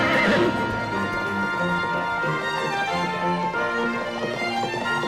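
Cartoon horse whinnies loudly at the start, then hooves clip-clop in a fast, steady gallop under a bright musical score that plays throughout.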